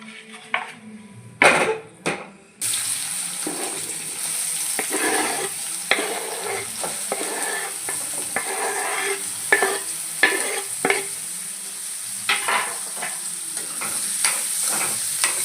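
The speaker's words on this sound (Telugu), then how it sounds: "ఇప్పుడు ఇదే ఆయిల్లో ఇంకొంచెం ఆయిల్ వేసుకొని ఉల్లిపాయలు ఫ్రై చేసేసుకుందామండి" Onions frying in oil in a pan for a brinjal curry, a steady close sizzle running throughout with frequent scraping stirs and a few sharp clanks near the start, no talking.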